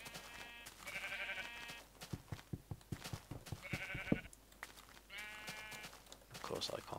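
Video game sheep on a farm bleat in short bursts near a player who is swinging a sword, with rapid clicking strikes between the calls and someone talking throughout.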